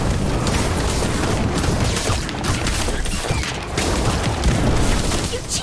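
A fiery Incendio spell cast in the Harry Potter Magic Awakened game, heard as loud, dense crackling bursts and booms layered over music, with a voice calling out amid the clamor.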